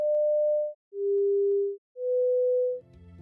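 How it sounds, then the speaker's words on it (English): Three clean sine test tones play in jumbled pitch order, high then low then middle, separated by brief silences, before a burst of other sound starts at the end. "the participants are given the same series of tones again, but in a random order"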